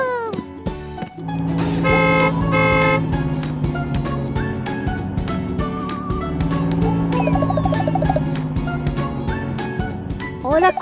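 A big cartoon car arrives with a sustained tonal honk and horn-like toots, layered with bright musical sound effects in a children's animation, loud and steady.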